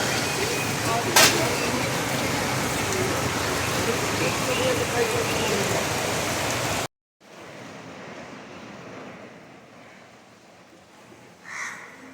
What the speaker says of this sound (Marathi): आम्ही पाऊस चालू झाला जोरा जोरात